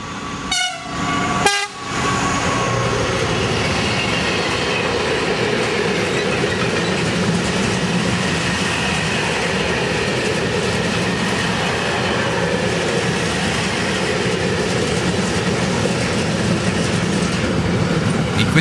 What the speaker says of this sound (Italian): Vediamo qualche transito di questi treni fra Carimate ed Esio.